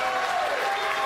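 Audience at a World Poker Tour invitational applauds a popular poker player, a dense, steady burst of close clapping from a crowd, lasting about a second.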